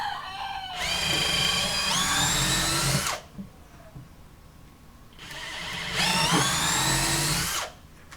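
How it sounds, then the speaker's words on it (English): A power drill bores holes into a wheelbarrow handle in two loud bursts of about two and a half seconds each, the whine rising in pitch as the motor speeds up, with a quiet gap between them. "so I need to drill bigger holes for the wheels."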